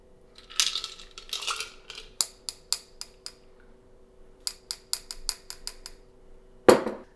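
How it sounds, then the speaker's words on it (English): A grapefruit, gin and Campari cocktail is double strained into a glass, giving a series of sharp, bright clinks and taps from the strainer and glassware in quick clusters, ending with one louder clink, with no talking. "we are going to double strain this into the glass because of all of that pulp"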